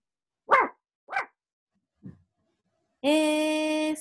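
A dog barks three times in quick, sharp bursts, followed by a longer, drawn-out tonal howl-like cry.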